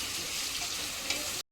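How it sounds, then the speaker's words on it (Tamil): Ingredients for a vegetable biryani fry in a pan, giving a steady, soft continuous sizzle without talk before a brief cut to silence. "போட்டுட்டு அதை வதக்கணும், ஓகேவா? நல்லா ஃப்ரை பண்ணணும்."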